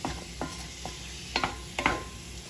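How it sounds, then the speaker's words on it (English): A spoon stirs Italian seasoning through chicken and broccoli pasta in a sizzling pan, with several soft scraping strokes at irregular intervals over a low frying hiss, and a couple of louder clinks near the end. "all I'm gonna do now, just stir it up"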